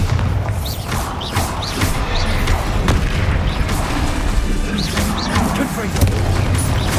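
Bombarda explosion spells cast in the Hogwarts Legacy video game: a steady run of deep booms and thuds over dense, continuous game noise, with voices mixed in.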